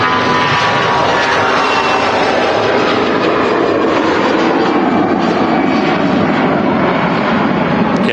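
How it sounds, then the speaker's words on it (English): An easyJet Airbus A320 taking off at Manchester Airport makes a loud, continuous broadband jet roar that holds steady throughout, with no voices. "EasyJet A320 out to Antalya"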